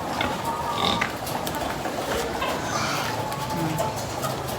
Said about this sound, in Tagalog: Kuklose up ko lang po sa inyo yung mga baboy po namin na pangbenta.